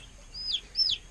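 Day-one Cornish Cross meat chicks peeping faintly, two short high chirps in quick succession in a quiet brooder.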